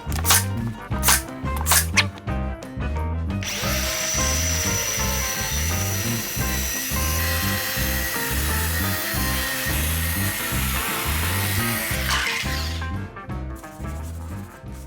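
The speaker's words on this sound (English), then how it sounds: "Now I'm going to router up a couple of my edges and sand down all this wood." A router shapes the wooden edges of a barn door, a loud continuous grinding whine that runs for about nine seconds between shorter bursts, over a steady rhythmic beat in the background.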